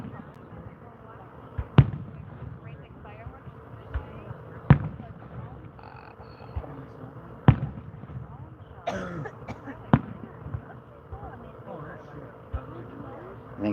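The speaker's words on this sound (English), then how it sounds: "I think it's really cool how you can follow the mortar shells up and then you can tell which ones are which just by how they go off" Fireworks mortar shells launching and bursting outdoors at night: a series of sharp booms roughly every two to three seconds, with crackling between them and voices in the background.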